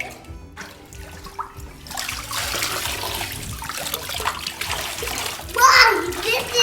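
Water is poured into a bath over a puppy, a bright splashing and trickling pour that grows stronger near the end, while someone talks throughout.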